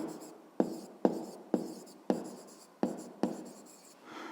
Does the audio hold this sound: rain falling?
no